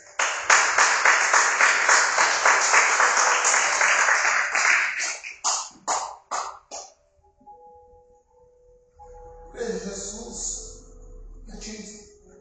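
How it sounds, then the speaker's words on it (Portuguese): A church congregation claps in praise at a worship service, a run of loud, rhythmic hand claps that slows and breaks off into a few final claps before quieter sounds follow. "Aplausos a Jesus."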